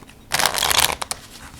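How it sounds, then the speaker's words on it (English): A deck of playing cards being shuffled close up during a card trick, a loud riffling burst lasting under a second followed by two quick taps as the pack squares up. "I will shuffle the pack as well"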